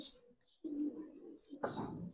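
Soft, low coos from Giribaz pigeons come in two or three short murmuring phrases, quiet and close, with a brief brighter rustle near the end.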